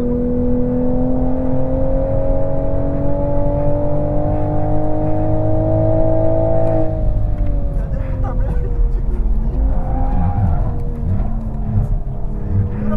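Toyota Supra driving on the Interlagos race track, its engine droning steadily with pitch rising and dipping through gear changes, loud and close from inside the car, with someone talking over it.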